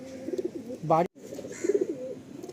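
Pigeons from a breeder's loft coo in soft repeated rolls, with a brief sharper call in the middle and a short dropout, set against quiet background voices.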